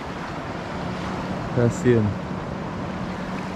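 Gentle sea waves wash steadily on a calm shore, a soft continuous surf with wind noise, while a person speaks briefly near the middle.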